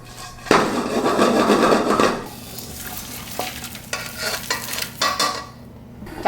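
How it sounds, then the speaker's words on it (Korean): Bean sprouts sizzle and are stirred in a hot pot, with a burst of loud frying followed by scraping and clinking of a utensil against the cookware. "콩나물이 들어가고 또 1분 정도 볶아줄 거예요."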